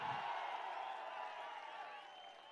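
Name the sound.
crowd applauding at a political rally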